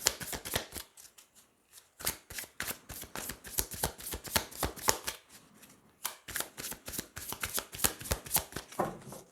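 Tarot cards are shuffled by hand before three are drawn, making quiet, close riffling and flicking bursts that repeat in quick rhythmic waves, with no talking.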